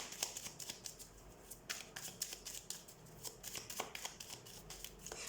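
Tarot cards being shuffled by hand in quick, continuous riffling flicks, close but soft, with no one speaking.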